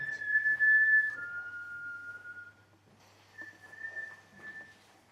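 A person whistles clear, sustained notes, a long tone that slides lower, a pause, then another held whistle, fairly close and alone.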